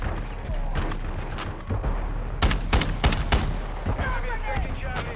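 Rapid gunfire bursts and sharp shots crack through a Call of Duty: Modern Warfare II multiplayer match, loud and close amid background clatter, with players talking over the action.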